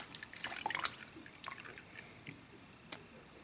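Coolant draining from a Kawasaki Vulcan 900 Classic motorcycle, heard as close, quiet irregular drips and small splashes with a brief cluster of wet patters.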